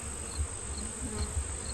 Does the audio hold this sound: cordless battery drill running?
no